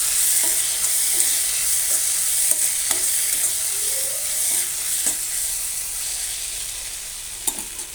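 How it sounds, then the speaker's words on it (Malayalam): Kothu parotta with chicken masala sautéing in a pan, a steady close sizzle with repeated scraping and stirring strokes of the spatula throughout, no voices. "എന്നിട്ടിനി നല്ല വഴറ്റി കൊടുക്കും."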